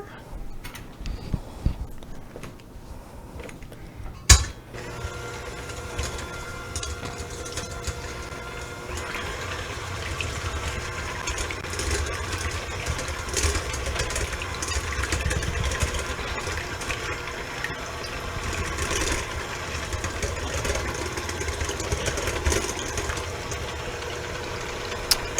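An electric mixer beats whole eggs and egg yolks, a steady mechanical whir running for a long stretch after a sharp knock near the start, with faint kitchen clatter.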